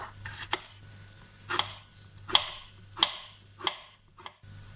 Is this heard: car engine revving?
no